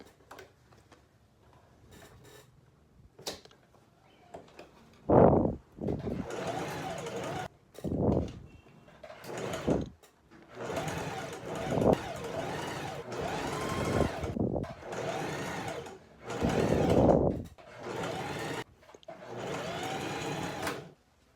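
A sewing machine stitches a blouse in bursts of rapid mechanical whirring, close and fairly quiet, stopping and restarting several times with short pauses between runs.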